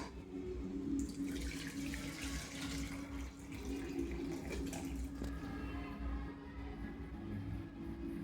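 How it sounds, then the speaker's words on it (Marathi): Boiled pasta is drained of its excess cooking water in a sink, giving a steady rushing, splashing pour that runs continuously at close range with no talking. "आता याच्यातलं एक्सेसिव्ह पाणी काढून घ्यायचं."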